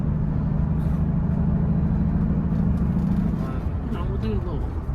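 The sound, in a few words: Mercedes-Benz CL65 AMG manual swap car driving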